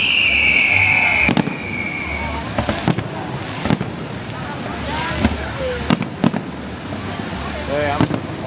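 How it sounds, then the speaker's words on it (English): Fireworks exploding over downtown Dayton, Ohio, loud sharp bangs every second or so with crackles between, over outdoor wind noise, with people talking and shouting nearby. "I can't hear you very well because of the fireworks."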